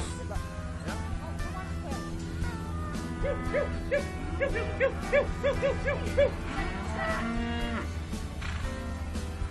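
Cattle low repeatedly amid a busy rodeo arena during a cattle sorting event, with people talking and announcements in the background throughout.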